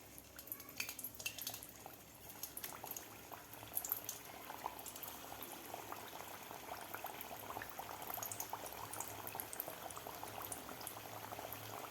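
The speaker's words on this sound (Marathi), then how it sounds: "तेल आपलं व्यवस्थित गरम झालेलं आहे. आता लगेचच यामध्ये आपण कचोरी सोडूया." Matar kachori deep frying in hot oil, a steady, dense bubbling sizzle that carries on evenly throughout, with no talk.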